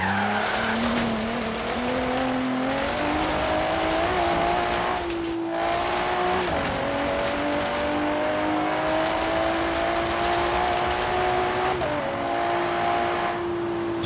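Porsche Macan engine in the Forza Horizon 3 video game: a steady, loud drone climbing in pitch through long gear pulls, broken by a few quick shifts and dips, with tyre noise underneath and no voices.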